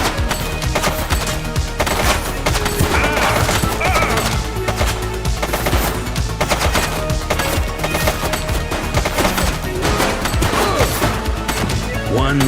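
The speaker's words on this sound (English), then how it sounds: "She's shooting!" Sustained gunfire rattles through a police crime action game, dense shots layered over loud music and action noise with no pauses, and brief voices mixed in.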